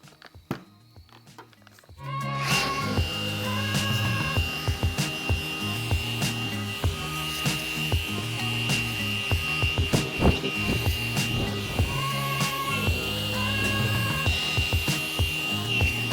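A machine polisher works a foggy car headlight with thin polishing compound, giving a continuous close whirring drone with rattling pad contact that starts after a short quiet lead-in and runs steadily without speech.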